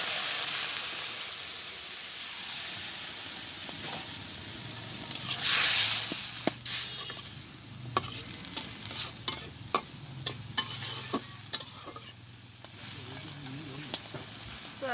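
Fish frying in a pan with green chillies and a little water on a village kitchen stove, giving a steady loud sizzle and hiss with repeated sharp scraping stirs and a brief steam burst.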